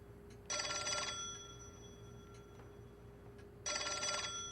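An old-style telephone bell rings twice in the video game L.A. Noire, each burst lasting about half a second over a quiet room hum, with no one talking.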